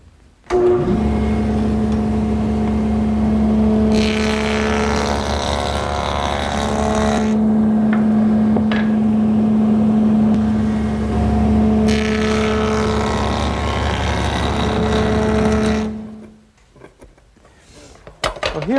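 A wood moulding machine fitted with a bead profile knife cutting pieces for an umbrella stand, a loud steady motor whine with two longer stretches of harsh cutting noise as stock feeds through.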